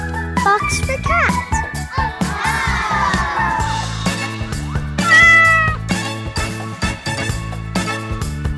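A pet cat meows repeatedly in a home, its calls rising and falling close by amid a busy mix of other sounds, with a voice heard briefly.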